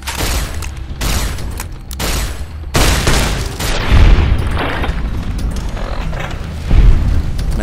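Shotgun and plasma rifle fire in a first-person shooter game, with loud, heavy booming blasts arriving in separate bursts at first, then dense, sustained rapid fire and explosive impacts with no talking.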